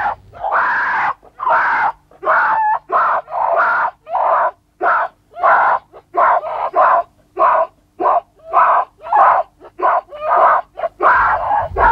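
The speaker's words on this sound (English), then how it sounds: "Titus tries to stop them, but Beats Me turns on him as the two females scream at each other." Two female mountain gorillas scream at each other in a long series of harsh, loud, rhythmic shrieks, close by, each burst separated by short gaps, continuing for about twelve seconds.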